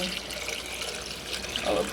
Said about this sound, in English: You have to have water in your canner.